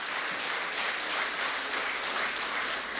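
A conference audience claps for a president in attendance, giving sustained, even applause that fills the whole stretch at a steady level with no voices on top.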